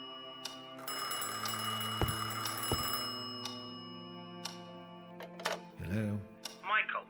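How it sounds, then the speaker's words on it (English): A telephone ringing in a 2006 horror video game, an electronic ring with sharp bell-like strikes over a humming tone, followed by a voice speaking at the end. "The phone rings."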